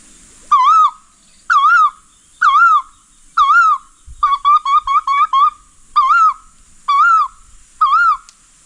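A human voice imitates a koel's rising whistled call, repeated about nine times at a steady pace, including one quick burst of short calls, loud and clear.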